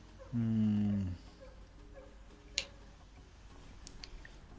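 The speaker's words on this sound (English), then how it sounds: "I hope you can't hear that dog barking away outside." A dog outside gives one short, loud bark-like call with a drawn-out tone, then only faint background noise and a small tick follow.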